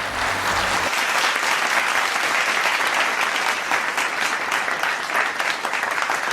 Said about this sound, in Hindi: एक बार जोरदार तालियां हो जाए विक्रांत के लिए